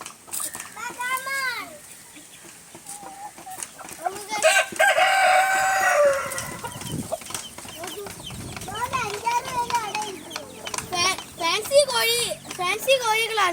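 Fancy chicken chicks and hens make a mix of close peeping, clucking and crowing, with children's voices and talk running throughout.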